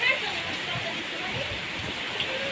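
Heavy typhoon rain pours down steadily as a dense, continuous hiss, loud and close throughout with no breaks.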